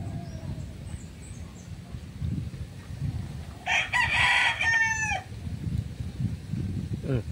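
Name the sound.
gamecock rooster crowing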